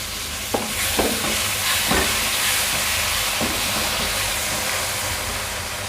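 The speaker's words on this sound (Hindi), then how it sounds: "अब इसमें डाल दूँगी 3 मीडियम साइज़ के टमाटर बारीक कटे हुए" Three medium, finely chopped tomatoes go into a sizzling masala for daal karela, giving a steady close frying hiss broken by a few sharp scraping stirs.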